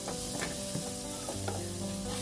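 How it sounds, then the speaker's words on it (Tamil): Chopped onions sizzle steadily in a hot pan with green chillies while being cooked for chicken mandi, with a few scraping stirs of a spoon over a continuous close frying hiss. "அடுத்ததாக இதில் நம்ம நறுக்கி வச்ச வெங்காயத்தை நம்ம ஆட் பண்ணிக்கிறோம்."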